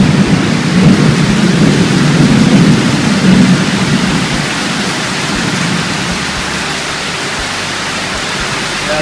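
Heavy monsoon rain pours steadily in Malaysia, a dense, loud, unbroken hiss with a deeper rumble in the first few seconds that eases slightly but continues throughout.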